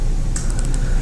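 Quick clicking keystrokes on a computer keyboard, a short burst of five or so taps over a low room hum during a lecture.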